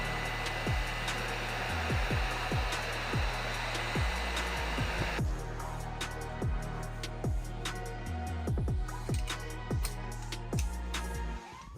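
Heat gun warming the new main bearing inner race for a two-stroke KTM crank, a loud steady blowing roar with repeated metallic clinks and taps over it, close and continuous without speech.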